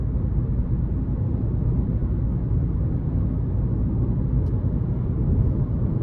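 Tire road noise from a 2024 Hyundai Kona Limited AWD 1.6 turbo on 19-inch alloy wheels over rougher pavement: a steady low rumble inside the cabin, constant and moderately loud without pauses.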